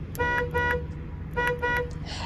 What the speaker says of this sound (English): You've also got your horn